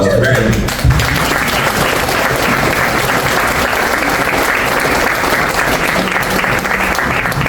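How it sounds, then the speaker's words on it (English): A luncheon audience at a chamber of commerce president's event breaks into sustained, dense applause, steady and loud for the full length with no pause. "Please give a big round of applause to Miriam."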